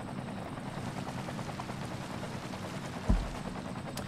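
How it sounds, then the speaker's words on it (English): Helicopter flying in the city-building game Cities: Skylines, a steady rhythmic rotor chop held at an even level, with a brief low thump near the end. "At least Skylines helicopters don't crash like armour helicopters"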